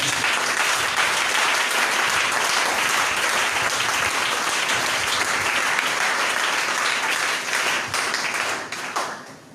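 A church congregation bursts into sustained, dense applause and clapping at a sermon, loud and continuous, then thinning out slightly at the end.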